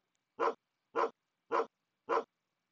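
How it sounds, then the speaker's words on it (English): A dog bark sound effect played from Scratch repeats four times at an even pace, each bark short, clean and alone against silence. "did we get the barking?"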